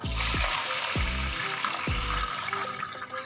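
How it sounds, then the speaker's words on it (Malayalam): Green gram lentils are washed with water in a bowl, giving a steady, close sloshing and swirling wash with a few soft low thumps as the grains are stirred. No one speaks. "ഇനി ഇത് വെള്ളം ഒഴിച്ച് നമുക്ക് നന്നായിട്ട് കഴുകി എടുത്തിട്ട് വരാം"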